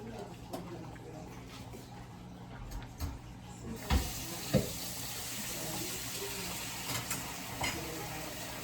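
A pot of Jamaican chicken and red peas stew is stirred: a steady simmering, sizzling hiss runs throughout, and a spoon knocks against the pot a few times, close by.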